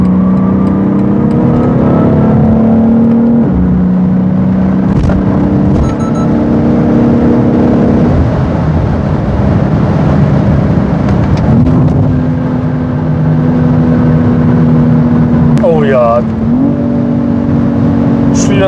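The inline-six engine of a BMW X3 M Competition accelerates hard at high speed, heard from inside the car as a loud, continuous drone whose pitch climbs and drops with each gear change over wind and road noise.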